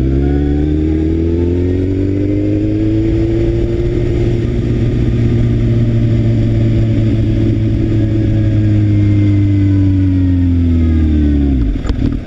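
A car engine runs steadily at close range while moving through a residential neighborhood, a loud continuous hum that holds for several seconds and then drops off sharply at the end, with no talking.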